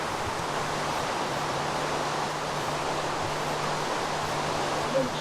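Steady rain falling in the Minecraft video game, a continuous even hiss with a faint low hum beneath it and no talk over it.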